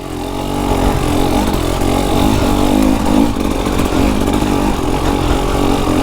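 A KTM hard enduro motorcycle engine lugs at low revs, a loud, close, throbbing chug that holds steady with slight swells in power.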